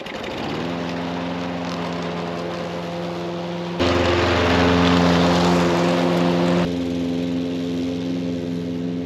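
A lawn mower engine drones loud and close, starting up then holding a steady hum that surges louder for a few seconds before settling back, with no talking.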